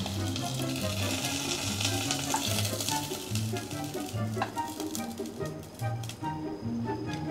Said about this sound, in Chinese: 我觉得洋葱已经煎得差不多了